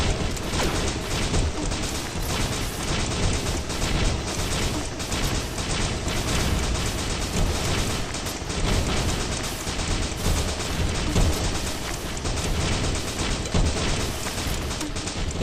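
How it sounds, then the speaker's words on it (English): Mortar rounds and heavy gunfire in a shooter video game keep up a dense, continuous barrage of blasts and rumble for the whole stretch, with no talking. "All these mortars going off in his face."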